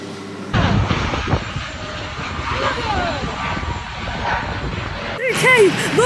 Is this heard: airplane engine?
yes